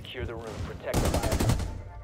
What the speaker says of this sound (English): No, I just shot through the wall.